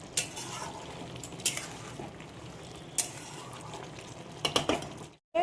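Meat curry simmers in a pot with a low, quiet bubbling bed while a utensil scrapes and clinks against the metal a handful of times, then a brief silence near the end.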